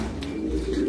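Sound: fancy pigeons cooing

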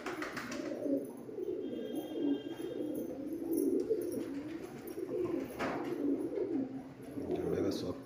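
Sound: Madrasi pigeons cooing

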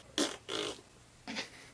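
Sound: fart

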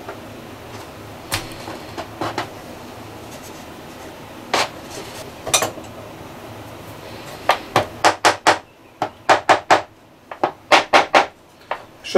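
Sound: hammering wood with the back of a chisel

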